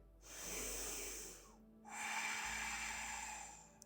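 Two deep nasal inhales during a yoga breathing exercise, each a loud, close breath lasting about a second and a half, with a short pause between them.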